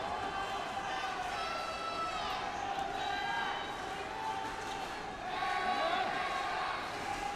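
A badminton crowd roars for the Indonesian pairing during a men's doubles final: a steady, loud wall of cheering and chanting with rising whistles and shouts throughout, swelling slightly toward the end.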